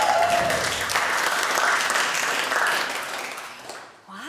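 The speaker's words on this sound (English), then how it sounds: "They were all sort of cheering for each other." An audience at a search marketing awards ceremony applauds winners with loud, sustained clapping that gradually fades, with a voice starting to speak at the very end.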